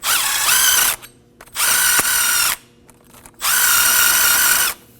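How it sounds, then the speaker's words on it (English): A power tool with a wire brush scrubs rust and debris off the wheel hub studs of a 2011-2016 Kia Optima during a front brake job, whining loudly in three bursts separated by short pauses. "you can also use a wire brush so you can go around all the studs and the center of the wheel hub"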